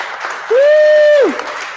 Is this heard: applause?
yes